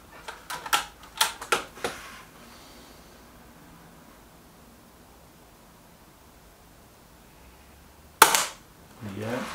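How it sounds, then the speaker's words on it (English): A Weihrauch HW 110 air rifle fires with a sharp crack at the very end, after a few quick mechanical clicks at the start and a long quiet stretch of faint hiss. "Shot two for the Weihrauch."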